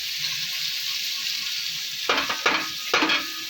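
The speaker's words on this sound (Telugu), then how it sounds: "కొంతసేపు వేగనిద్దాం" Brinjal and dried fish frying in a pan give a steady broadband sizzle, broken by three short louder bursts of stirring near the end.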